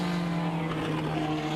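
A race car in a 2012 Gaúcho endurance race roars past with a steady, loud engine drone and a slight pitch shift, no talk over it.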